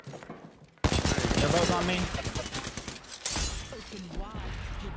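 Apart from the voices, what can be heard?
gunfire in the video game Apex Legends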